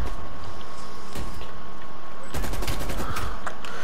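Gunfire in the video game Call of Duty Black Ops Cold War: a single shot, then a fast burst of loud, close shots that rattle on for over a second.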